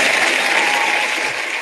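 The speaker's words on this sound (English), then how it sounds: "That's worth another round of applause." A dense, even wash of audience applause from a crowd, loud and close, sustained throughout the brief moment with no voices.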